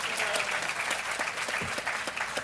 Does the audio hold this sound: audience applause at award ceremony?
yes